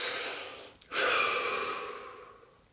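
A deep breath drawn during a guided relaxation session, a long breathy rush of air that breaks off briefly and then returns as a steady exhale tapering away, close and clear with no talking.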